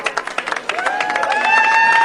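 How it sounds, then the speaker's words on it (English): A crowd cheers and claps, starting with scattered hand claps and building into louder sustained cheering with rising voices near the end. "The timing of the cheering just could not be more perfect."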